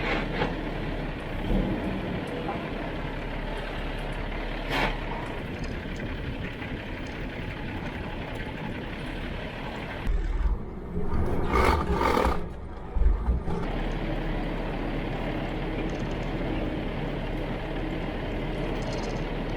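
A Volvo truck driving out on the road, giving a steady, loud rumbling engine roar throughout, with a few brief louder bursts and rattles near the middle.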